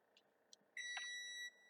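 An electronic beep from a kitchen timer sounds once, a steady high tone lasting under a second after a few faint clicks, set in a quiet home kitchen during baking of pumpkin cupcakes.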